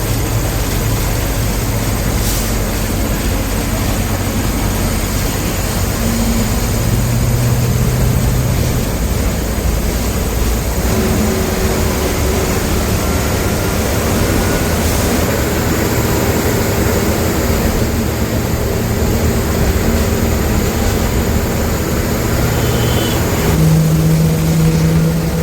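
Diesel engine of a state transport bus heard from inside the driver's cabin, a steady loud drone with low hum and shifting tones as it runs down a narrow road, no talk.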